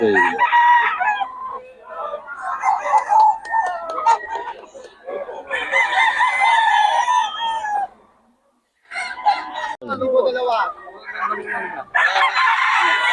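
Roosters crow repeatedly at a gamecock seller's stall in Bocaue, several long cock-a-doodle-doo calls overlapping with clucking and other fowl, loud and close, with a brief quiet gap midway.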